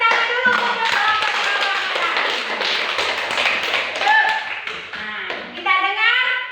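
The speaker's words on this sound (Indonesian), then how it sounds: "kita tepuk tangan dulu untuk kelompok" A classroom full of people clapping together for a student group, steady and sustained, with children's voices chattering over the applause.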